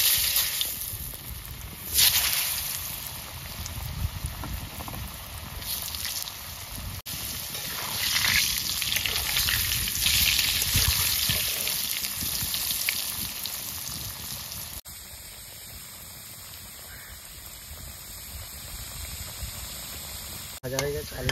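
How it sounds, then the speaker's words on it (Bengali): Potato pieces fry in oil for a rohu fish curry, a low bubbling sizzle that runs throughout with occasional stirring, a louder burst early on, and a noticeable shift in tone partway through. "আলুগুলোকে একটু লাল করে ভেজে নেব।"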